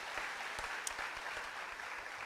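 A church congregation claps steadily in a sustained round of applause, a dense wash of many hands heard at moderate volume from within the hall.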